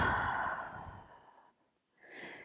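A long, deep exhale through the mouth during a Pilates breathing exercise fades out, followed by a softer, brief breath.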